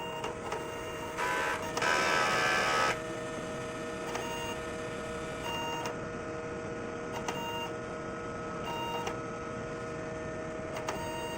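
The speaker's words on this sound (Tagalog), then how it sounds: "So after natin ma-on yung printer, so mag-cleaning po tayo." Inkjet printer running a print head cleaning cycle, a steady low mechanical hum with bursts of louder whirring and occasional clicks from the carriage, fairly quiet and close.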